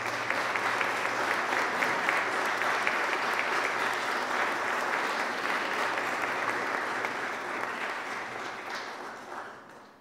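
Graduates at a college graduation ceremony applauding their families, a dense, steady wash of crowd clapping with faint cheering that holds for about ten seconds before tapering off.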